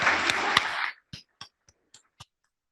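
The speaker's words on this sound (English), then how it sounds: "let's give a round of applause to the girls that are here representing" Audience at a Rotary meeting applauds in a dense burst of clapping for about a second, then it drops to a few scattered, separate claps indoors.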